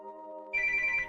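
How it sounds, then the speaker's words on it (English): A phone ringtone begins partway through, a clear repeating electronic chime that is loud and close, following a steady low hum. "Why is someone ringing me?"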